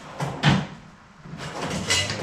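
A workshop drawer holding files is pulled open, giving two clear sliding and rattling movements that are close and moderately loud.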